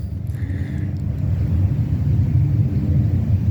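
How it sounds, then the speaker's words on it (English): A plane passes at the EAA air show with a low, loud rumbling drone that grows steadily stronger, and a faint brief tone sounds early on. "And there's another plane over there I hear coming through."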